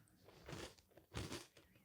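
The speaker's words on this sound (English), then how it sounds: "Silence and crunching." Someone eating Magic Spoon cereal makes two faint, close crunching bites in quiet surroundings.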